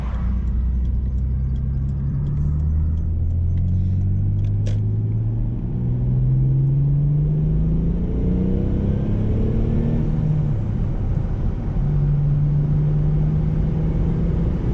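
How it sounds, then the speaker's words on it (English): A neglected Mitsubishi VR4 accelerates up a highway on-ramp, its engine note climbing through the gears in a loud, close interior rumble with steady road noise underneath. "I'm taking this on-ramp to get on the highway, and this will be my first highway driving"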